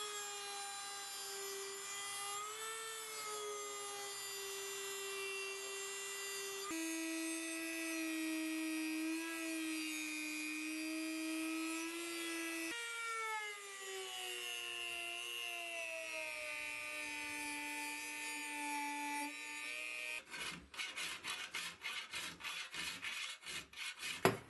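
A Dremel rotary tool with sanding drums grinds spring steel for a cutlass blade, a steady high whine that shifts pitch as the drum loads and eases, ending in a rapid stuttering burst of contact noise.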